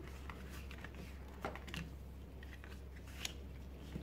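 Faint, sparse snips of scissors cutting through paper over a steady low hum, a few crisp clicks spread across the quiet.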